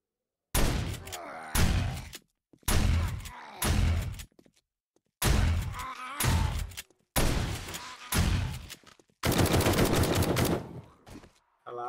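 Gunfire in the zombie survival game 7 Days to Die, loud close bursts in a string of separate volleys with short gaps and a longer sustained burst near the end, no voices over it.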